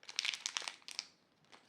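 Crinkly plastic packaging of craft supplies being opened up close, a quick burst of crackling and crumpling that fades out.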